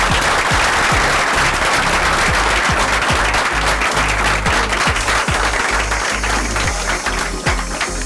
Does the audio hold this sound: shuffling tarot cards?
no